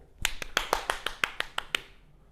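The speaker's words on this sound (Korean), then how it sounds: "박수!" Around ten sharp, evenly spaced claps from a classroom group during a chemistry lesson, crisp and close, in a quick steady rhythm that stops after about two seconds.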